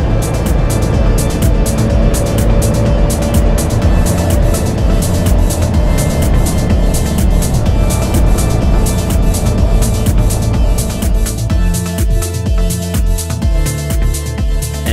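A Hydrosport motorboat running over water near Haulover Beach sandbar at golden hour: a loud, steady motor drone with rushing water and hull noise that holds throughout, with a rougher, lower rumble toward the end.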